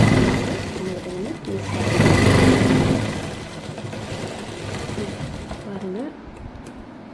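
A sewing machine runs steadily while stitching a baby frock, its close mechanical whirr rising and falling in speed, with someone talking over it.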